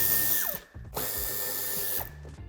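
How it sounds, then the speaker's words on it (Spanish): A power tool whirs in short bursts while backing out a Torx T25 screw from the bumper corner of a 2013–2017 Škoda Octavia Combi III, close and loud, with a brief pause and a falling motor pitch between bursts. "en ambas esquinas quitaremos el tornillo de Torx de 25"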